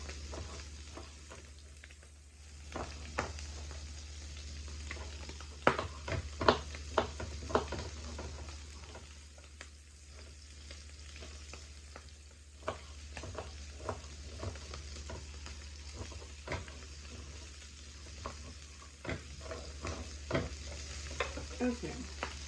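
Chilaquiles ingredients fry in a pan with a steady soft sizzle, while repeated close scrapes and taps of a stirring utensil punctuate it in irregular bursts, with no talking.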